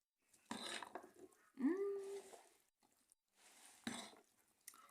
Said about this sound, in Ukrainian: Тепер це все треба перемішати добренько.